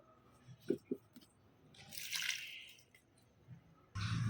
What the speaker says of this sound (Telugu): ఇలా నేను అన్ని మొక్కలకి ఈ వాటర్ని అందించేస్తాను